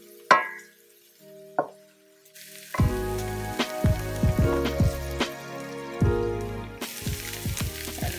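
Onions dropped into a hot pan for a spicy red curry shrimp dish, a couple of sharp taps and clatters first, then a sudden loud sizzle that keeps crackling and hissing steadily as they fry, close up with no talking.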